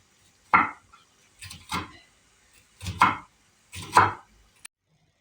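Knife chopping ingredients for pakora kadhi on a cutting board, four distinct clusters of firm, close chops separated by brief pauses, with no talking.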